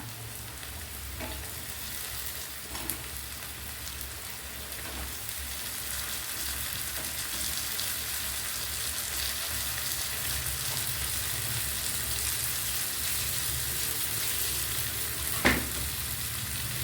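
Ingredients for coriander chutney, including chopped tomato, sauté in hot coconut oil with a steady, close sizzle and crackle, joined by a few soft clinks of a stirring spoon against the pan, with no talk.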